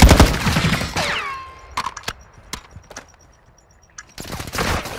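Bursts of gunfire in Warzone 2 on the Vondel map: a dense volley at the start, then scattered single sharp shots, with a renewed burst of fire near the end.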